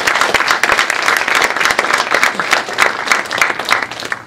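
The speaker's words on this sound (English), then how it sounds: "Let's give them another round of applause." Loud, lively applause from a nearby group at a panel discussion, with distinct individual claps standing out in an uneven, energetic rhythm.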